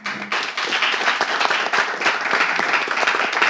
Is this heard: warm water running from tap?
no